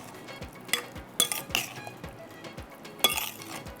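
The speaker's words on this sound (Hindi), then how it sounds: "और ये पपीता वाला जो चिकन है ये इसमें डालते हैं।" Chicken marinated in papaya paste is mixed in a pot, with a spoon scraping and clinking against the metal in irregular strokes. The sound is soft and close with several sharper clinks, and no one is talking.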